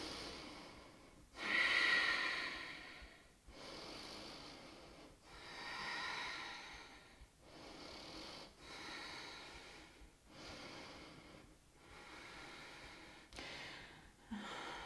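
Slow, audible breaths drawn in and pushed out through the nose during a vinyasa yoga twist, close and fairly loud, in a steady rhythm of about seven breath cycles with no talk.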